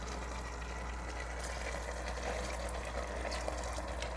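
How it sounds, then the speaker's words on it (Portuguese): Hot water is poured into a pressure cooker holding about 200 grams of rice, a steady close splashing, filling hiss that runs unbroken for the few seconds, loud against a quiet kitchen. "Água quente."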